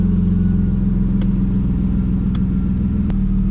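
A BMW E36 328i with a loud aftermarket exhaust idles after a cold start, giving a steady, close, throbbing low rumble that holds even. A few brief clicks come through, and no one speaks.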